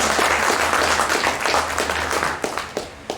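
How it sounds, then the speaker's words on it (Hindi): An audience at a cultural evening at IRICEN, the Indian Railways Institute of Civil Engineering in Pune, gives steady, loud applause throughout, with a few sharper individual claps near the end. "जोरदार ताली बजा दो, बहुत मेहनत"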